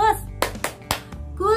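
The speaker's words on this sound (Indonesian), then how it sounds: "Lalu yang selanjutnya membuat anak fokus dengan tepuk fokus." A classroom 'tepuk fokus' clapping rhythm, heard as three sharp, close hand claps in quick succession between bits of voice.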